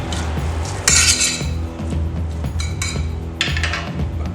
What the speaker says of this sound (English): Toss it around. Make sure all the sauce is nicely spread out through the pasta.